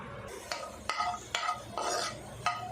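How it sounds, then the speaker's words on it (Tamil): Almonds, raisins and cashews roast in melted ghee over a low flame, with a spoon scraping and stirring in repeated strokes against the pan over a light sizzle, no voices. "பாதாம் உலர் திராட்சை முந்திரி லோ ஃப்ளேம்லேயே இதை வறுத்து எடுத்துக்கலாம்"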